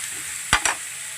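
Chicken curry ingredients, with onions, fry in a pan under a constant hiss, broken by two quick scraping stirs close by.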